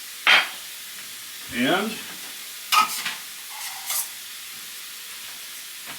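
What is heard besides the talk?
ground meat browning in a pan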